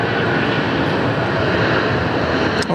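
A Vietjet airliner landing at Sydney Airport roars loudly and continuously overhead, a dense, close jet-engine rumble that fills the whole stretch without speech.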